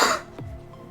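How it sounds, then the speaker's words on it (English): A single sharp cough, close and loud, dying away into a brief throaty rumble with no talk. "This cough will not go away."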